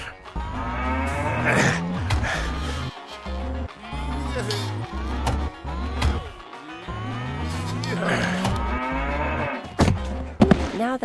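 Cow mooing during a mechanical bucking bronco ride in the adventure game Runaway 2, with repeated loud, drawn-out moos and thumps from the bucking machine, while characters talk over it.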